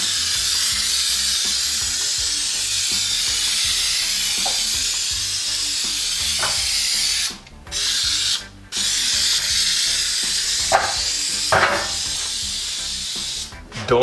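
Spray glue hissing from a nozzle onto a custom side skirt for a BMW M3, a loud continuous spray broken by two short pauses, with a few light knocks and rubs toward the end.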